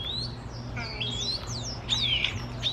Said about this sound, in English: I'm watching the birds in the bird feeder.